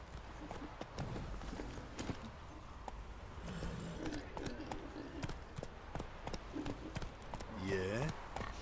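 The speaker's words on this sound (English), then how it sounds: "Magic horse." Horse hooves clip-clop steadily on the ground in The Witcher 3, a repeated rhythmic trot heard up close alongside game ambience and someone talking.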